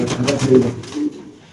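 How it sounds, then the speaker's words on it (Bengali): Spanish pigeons coo in a close, fairly loud burst of low throaty calls, with some overlapping noise, before the sound fades over the last half second. "দেখেন সরাসরি আমরা দেখাই দিই ভাই স্প্যানিশ কবুতরের খেলাগুলো দেখেন মাশাআল্লাহ, কি পরিমাণ ডাকাডাকি করে ভাই"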